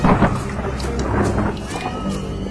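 A rain and thunderstorm sound effect: steady hiss of heavy rainfall with low thunder rumbling beneath it, continuous and fairly loud throughout.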